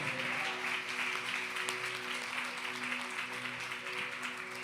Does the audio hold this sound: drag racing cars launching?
no